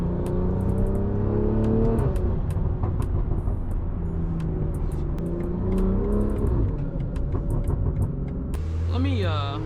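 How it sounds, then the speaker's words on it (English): A BMW M340i drives and accelerates, its engine climbing through rising revs, dipping at gear changes and pulling again, with a loud, close rumble and a brief revving flourish near the end, while someone talks over it. "Obviously the car still sounds and performs amazing"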